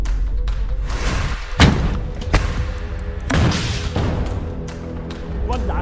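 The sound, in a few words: launcher fired at a tank, explosion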